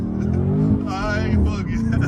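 A car engine revving hard while spinning donuts, a loud close roar with rising and falling pitch and some tire noise, with people talking over it.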